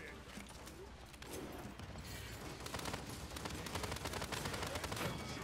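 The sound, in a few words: gunfire from the video game Paladins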